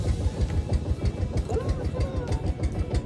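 A boat engine at a riverside picnic makes a low, rhythmic chugging putter that runs steadily throughout, with faint voices mixed over it.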